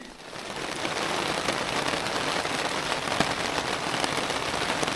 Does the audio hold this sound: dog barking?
no